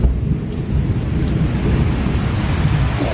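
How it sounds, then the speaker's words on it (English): Thunder during a rainstorm, a steady low rumble with dense rain noise throughout, no voices present. "That's going to be some big thunder in a minute."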